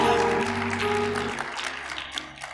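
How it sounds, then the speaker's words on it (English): Audience clapping to welcome panelists at a church-style talk event, a burst of hand claps that gradually thins and fades while a sustained tonal backing hums underneath, no speech. "shall we clap hands to welcome our panelists?"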